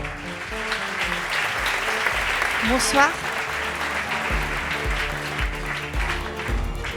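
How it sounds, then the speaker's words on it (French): Audience applause at a French business awards ceremony, the Prix de l'Économie NéoAquitains in the Landes, a steady wash of clapping throughout with a speaker's voice greeting the room over it. "Sous vos applaudissements."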